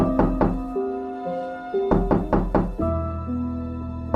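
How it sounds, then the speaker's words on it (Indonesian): Someone knocking on a house door: two quick raps, then a slower group of three, then one more, loud and close, each with a hollow wooden thud and brief ringing resonance. "Tak lama kemudian pintu rumah diketuk seseorang."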